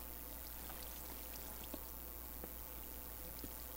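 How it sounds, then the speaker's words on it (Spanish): Steady flowing water inside a large cave in Minecraft, a continuous stream-like wash with faint drips, even and unbroken throughout at low volume. "si hay agua aquí y todo."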